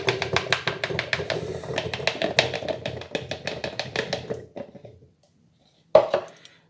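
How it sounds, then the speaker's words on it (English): Pickled onions drop into a glass jar in a quick, irregular run of close, bright clinks and taps that stops after about five seconds. One last sharp clink follows after a short silence. "So now I'm going to add those pickled onions to this jar."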